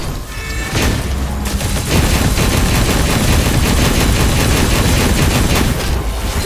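Dense, rapid gunfire in the game Punishing Gray Raven, a sustained fusillade of loud, close shots with booming impacts that barely let up.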